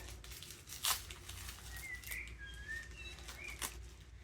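Sticky tape torn and pulled off a roll, a sharp ripping burst followed by fainter crinkling, quiet and close, with birds chirping in the background.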